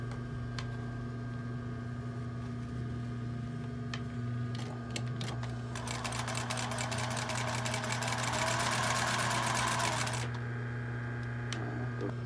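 A sewing machine stitches along the interfacing of a classic men's shirt collar, with a steady close mechanical whir that swells louder midway over a constant low motor hum.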